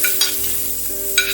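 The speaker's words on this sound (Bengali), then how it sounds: "প্রথমে আমরা কড়াইতে সামান্য ঘি দিয়ে দেব। তার মধ্যে দিয়ে দেব পেঁয়াজ আর গাজর" Chopped onion and carrot fry in ghee in a wok for a fish stuffing. A steady, close sizzle runs throughout, broken by brief scraping stirs near the start and again toward the end.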